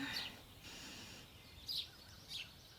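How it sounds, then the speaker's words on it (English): Birds in the Witch on the Holy Night visual novel give a few short, faint chirps in three brief bursts over quiet background hiss, with no voices. "I woke up to the sound of birds chirping."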